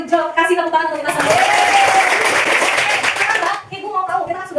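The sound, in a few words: classroom applause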